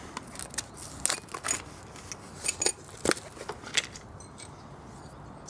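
New motorcycle brake pads for a BMW R1250GS being ripped out of their packaging, with quiet crinkling and sharp plastic snaps and rustles in irregular bursts, close up and without talk.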